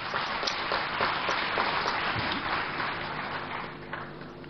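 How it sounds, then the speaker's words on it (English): An audience applauds newly admitted architects at an induction ceremony, a dense, even wash of many hands clapping that fades slightly toward the end. "Can we please give them a round of applause?"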